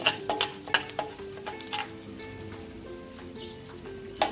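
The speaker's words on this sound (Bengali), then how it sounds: "তেলটা গরম হয়ে গেছে। এতে আমি এখন অল্প হিং ফোড়ন দেব।" Asafoetida tempering hitting hot white oil and sizzling, with sharp crackles and scraping stirring strokes early on that settle into a steady fizz before a final clatter.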